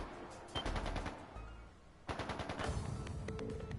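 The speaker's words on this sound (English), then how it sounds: "gunfire from further in." Bursts of distant automatic gunfire in the video game Trails of Cold Steel 3, rapid volleys in two clusters separated by a brief lull, faint and muffled.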